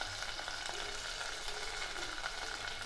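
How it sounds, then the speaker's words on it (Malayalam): Crushed ginger, green chili, curry leaves and onion sautéing in a pan for a country-style crab chili curry, giving a steady, close sizzle with light stirring throughout and no talking. "ഇതൊന്ന് വഴറ്റിയെടുക്കാം."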